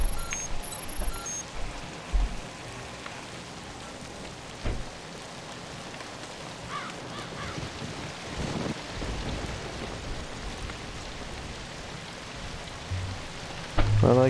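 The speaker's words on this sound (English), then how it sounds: "Sound design's pretty cool here. With the rain." Steady rain falls in the video game Zombi, a dense, continuous hiss filling the scene with scattered heavier drops and a faint distant rumble, with no one talking.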